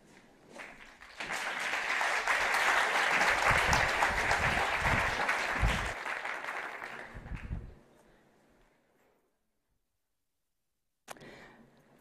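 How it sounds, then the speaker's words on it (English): An audience at a design conference in Budapest claps for a speaker being introduced, building quickly into full applause for about six seconds, then fading to scattered claps and near silence before a brief noise at the end. "So please, a round of applause for Candace."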